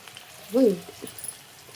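Chicken wings frying in a small amount of oil on low heat give a faint, brief sizzle, with a short voice-like murmur partway through.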